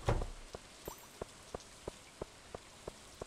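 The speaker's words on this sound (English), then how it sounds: "It's raining outside. You'll probably hear it." Rain ambience in the farming game Stardew Valley: a quiet, steady patter with soft, evenly spaced drip-like ticks roughly three times a second, heard alone.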